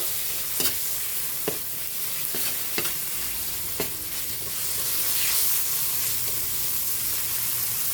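Ground meat sizzles and sautés in a pan with garlic, onion and tomato, with a steady close frying hiss and occasional sharp scraping stirs of a utensil against the pan.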